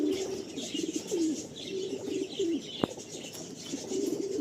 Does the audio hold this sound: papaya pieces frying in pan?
no